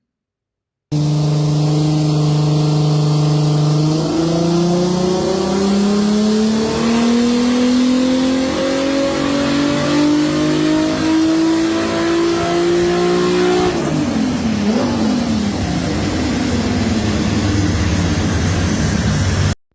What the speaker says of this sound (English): went on to the dyno up at EFI Parts